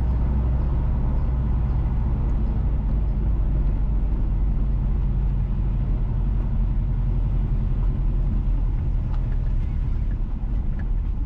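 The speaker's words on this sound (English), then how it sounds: "Currently, we are driving northwest in Unstown towards Cobe Street, St. Mary Parish" Car driving along Hunts Town Road in St Mary Parish, Jamaica, heard from inside as a constant low engine and road rumble with steady tyre noise throughout.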